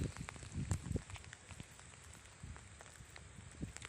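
Light rain patters softly on a surface during a flood, scattered drops ticking irregularly with a few heavier taps near the start, faint and close.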